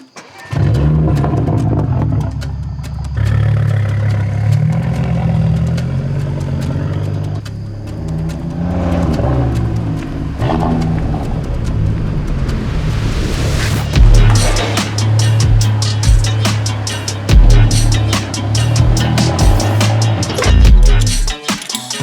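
An Audi RS3 8Y on a Stage 1+ E85 tune runs on a dyno with a loud, close engine drone. The revs climb in a rising pull midway, then it keeps roaring with shifting revs.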